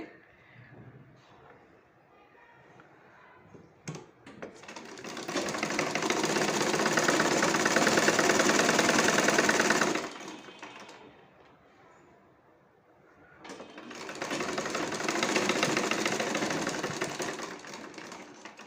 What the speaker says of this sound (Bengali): সেলাই করে নিলাম ফিতাটা ভিতরের দিকে দিয়ে